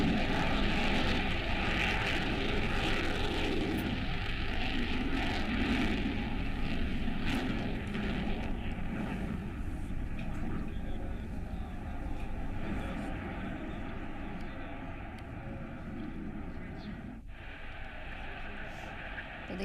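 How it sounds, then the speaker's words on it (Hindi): Indian Air Force aircraft including Rafale, Mirage, Jaguar and Sukhoi flying over the Ganga Expressway airstrip in Shahjahanpur during a drill, a loud sustained engine roar that slowly fades, heard under a news reporter's voice. "जहां गंगा एक्सप्रेसवे पर बनी एयर स्ट्रिप पर भारतीय एयरफोर्स के जहाज अपनी ताकत दिखा रहे हैं।"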